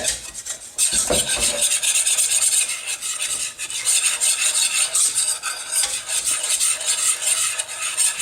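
A whisk scrapes continuously around a pan, cooking out a flour roux for mac and cheese. The raspy, rhythmic stirring is close and steady, heard alone without any voices.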